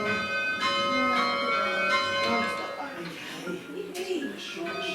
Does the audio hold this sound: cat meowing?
no